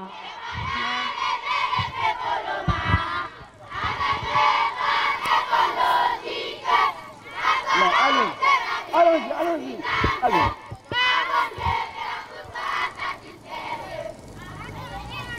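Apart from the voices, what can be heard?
school children cheering loudly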